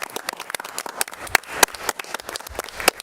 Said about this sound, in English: I'd like to give a huge round of applause to our entire coaching staff.